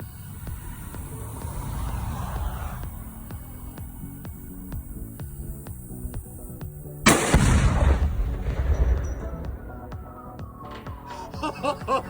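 A rifle shot sets off a Tannerite charge placed to blow up a car outdoors, a single loud, sharp blast followed by a rolling boom and debris that fade over several seconds after a quieter lead-in.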